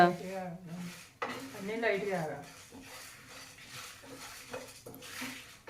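Chillies and curry leaves are stir-fried in a pan, with metal spatula scrapes and clinks in an irregular rhythm, close by and moderately loud under someone speaking.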